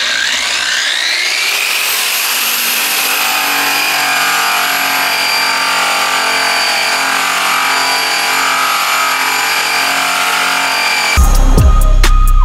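Power buffer spun up to full speed to polish an aluminum wheel, a loud steady high whine that ramps up at the start and holds, ending in a sudden rattling burst, with no talk.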